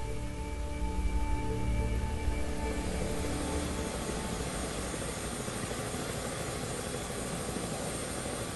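A small helicopter flies toward the remote island of Diomede, its rotor thudding and turbine whine holding steady and fairly close throughout, with no voices.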